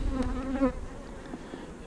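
Hive of bees preparing to swarm, a dense close buzzing drone with wavering pitch, steady and moderately loud with no talk.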